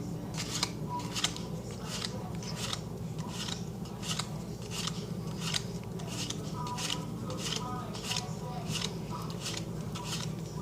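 Thumbing through a deck of playing cards for a magic trick: a steady series of soft, rapid riffling flicks, close and continuous over a low room hum.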